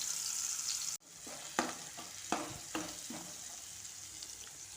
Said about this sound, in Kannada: ಬೆಳ್ಳುಳ್ಳಿ ಎಲ್ಲ ಎಣ್ಣೆಯಲ್ಲಿ ಹಾಕ್ತಾಯಿದ್ದೀನಿ